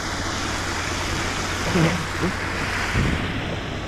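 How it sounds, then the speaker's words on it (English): Steady broadband rush of a waterfall in Bradwell Wood fills the clip, constant and fairly loud, with a couple of faint low thumps partway through. "beautiful waterfall"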